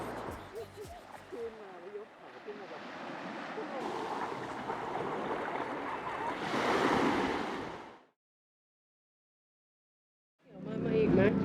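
Sea waves wash onto a beach at Hua Hin, a steady broadband surf roar with wind mixed in, swelling louder before a sudden cut to silence and a brief return at the end.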